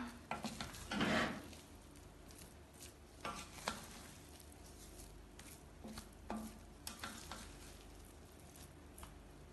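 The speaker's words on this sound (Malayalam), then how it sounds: "ഇതിനി ഒന്ന് ഇളക്കി കൊടുത്തതിന് ശേഷം ഒരു പ്ലേറ്റ് സെർവ് ചെയ്യാം" Thalappakatti chicken biryani is stirred in a cooking pot, giving a few scraping, rustling strokes with a louder burst near the start and quieter clinks and scrapes after. It sounds close and moderate, with no talking.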